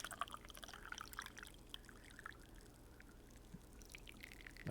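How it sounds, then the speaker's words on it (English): Tea being poured from a pot into a cup makes a faint, steady trickling stream that runs continuously at low level. "Let's get the sound of pouring the tea."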